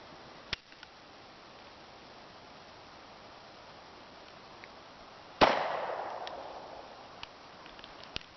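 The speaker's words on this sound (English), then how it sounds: "We're going to go ahead and take a second shot so you guys can see us shooting it" A single loud .45 ACP pistol shot firing a Hornady Critical Duty round outdoors, a sharp blast followed by a long decaying rumble, with a smaller click beforehand.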